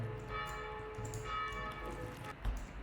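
A bell sound effect in an Unreal Engine game using FMOD rings out with a sustained, ringing tone that slowly decays, followed by a soft thump near the end.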